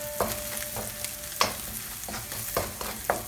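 Fried rice being stir-fried in a pan, with a steady sizzle and repeated scraping and clattering of the utensil against the pan every half second or so, and no talking.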